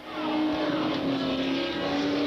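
Late model Super Stock race cars roar around an oval track during a qualifying run, a loud sustained engine drone with steady pitch lines that fills the whole stretch.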